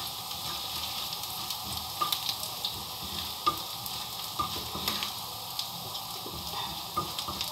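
Garlic sizzles steadily in hot oil in a pan as it fries to golden for green molokhia, with light scraping and clicking from stirring spread through the continuous crackle.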